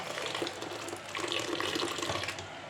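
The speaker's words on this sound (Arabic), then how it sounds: "ندير لها شويه ديال الماء غليان" Boiling water streams steadily over semolina being washed, a continuous broadband rushing and splashing pour, close and even throughout with no voices.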